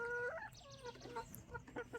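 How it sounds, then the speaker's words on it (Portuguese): Several Embrapa hens cluck in a small backyard coop, with overlapping clucks and squawks throughout and no talk, moderately close. "São 5 galinhas Embrapa."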